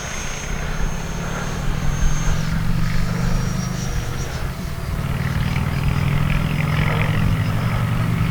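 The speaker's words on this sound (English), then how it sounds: "Man, is she a sweet flying jet" An E-flite Viper 90mm EDF RC jet flies past under flaps up and gear up, a steady loud ducted-fan whine and rumble holding for the whole stretch with a slight dip midway.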